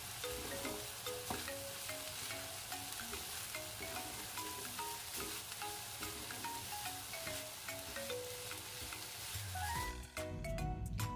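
Schezwan cauliflower rice with spring onion stir-fried in a pan, a steady close sizzle with scraping and tossing clatter throughout, ending in a few sharper clinks of the utensil against the pan.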